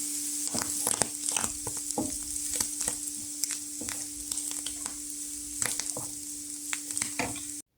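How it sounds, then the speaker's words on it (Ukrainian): Steady sizzling of false morel mushrooms frying with onion in a pan, with scattered crackles and pops throughout and a constant low hum underneath. "Нам потрібно ще 2-3 хвилинки для обсмажування"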